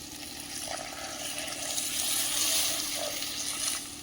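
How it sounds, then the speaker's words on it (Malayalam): Water poured into a sizzling pan of cashew nut kuruma, a South Kerala style curry, gives a steady hiss and bubbling that builds to a fuller rush midway and then eases slightly. "ഇനി ഇതിലേക്ക് കുറച്ച് വെള്ളം കൂടി ഒഴിച്ചു കൊടുക്കാം"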